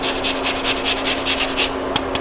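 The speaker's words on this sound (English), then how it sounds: "grating an onion is a great idea" An onion is rubbed across a grater in quick, rhythmic rasping strokes, close and fairly loud, the scraping pulses pausing near the end before two final swipes.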